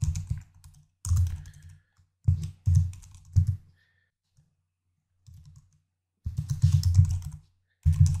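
Email address and password typed on a computer keyboard to log into a web hosting account: loud, close bursts of keystrokes broken by short pauses.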